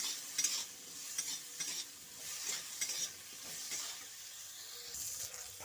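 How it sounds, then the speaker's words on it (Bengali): Cauliflower florets frying in oil with turmeric and salt, a faint steady sizzle broken by repeated scraping stirs of a spatula against the pan, close up with no voices. "সামান্য হলুদ আর লবণ দিয়ে এরকম ভেজে নিব।"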